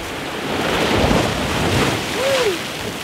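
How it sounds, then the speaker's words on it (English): Ocean waves washing onto a tropical beach as the tide comes in, a broad steady surf roar with wind buffeting the microphone, close and continuous. "the tide is coming in"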